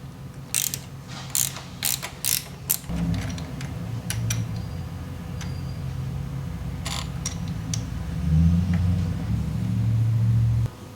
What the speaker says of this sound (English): Disconnect the shift shaft with an 8mm wrench.